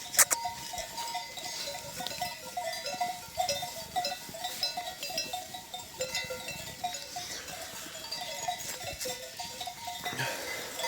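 Sheep grazing on a hillside in Turkey, with a steady jangle of livestock bells ringing in uneven rhythm, a few sharp knocks, and fainter bleats mixed in throughout.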